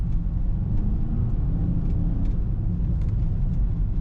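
A Volkswagen Golf GTI MK8 driving through snow, heard from inside as a constant low road and engine rumble with faint clicks and ticks over the top, steady and without voices.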